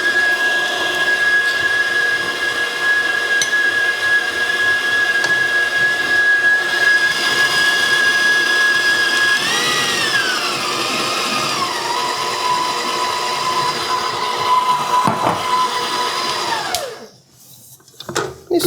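A Hamilton Beach Professional 5-quart, 450-watt stand mixer whirs steadily while beating cake batter of flour, baking powder and salt, a loud continuous motor hum that shifts pitch midway before cutting off near the end.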